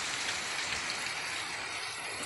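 Steady rain pours down outdoors, a continuous hiss of drops on surfaces that stays even and fairly loud throughout, with no voices.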